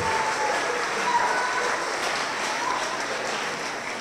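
An audience at a gala festival concert applauds steadily, a dense even wash of clapping that fades slightly toward the end.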